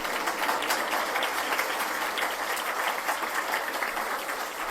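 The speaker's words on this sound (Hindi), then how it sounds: "आप लोग ताली नहीं बजाएंगे?" Sustained applause from a satsang audience in Mathura, a dense, even wash of many hands clapping together for several seconds without any voices.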